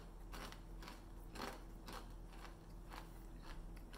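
Dark chocolate chickpea snack crunched between the teeth, giving repeated crisp, close bites spaced about half a second apart, with no talking over them.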